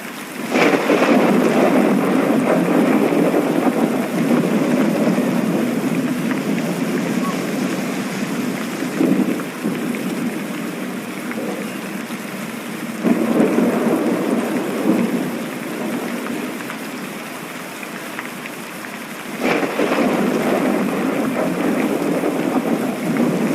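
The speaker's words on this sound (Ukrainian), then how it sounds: "Так, це гроза." A thunderstorm with heavy, steady rain and repeated rolling thunder, including several louder swells, continuous and enveloping with no voices.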